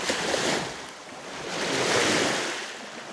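Waves washing on an open reservoir during a fishing trip, a steady rushing surge that swells and fades twice, mixed with wind buffeting the microphone, with no voices.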